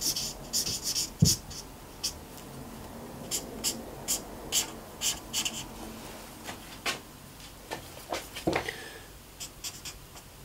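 Marker drawing over areas of a design, quick scratchy strokes and taps in irregular bursts close by, fairly quiet against a faint background hiss.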